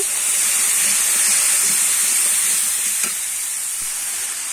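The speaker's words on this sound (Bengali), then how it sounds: "দিয়ে আমি মশলাটা এবার কষিয়ে নেব।" Spice paste with a little added water cooks and thickens in a pan for a raw banana kofta curry, giving a steady, close, bright sizzle and hiss throughout with faint stirring scrapes and no talk.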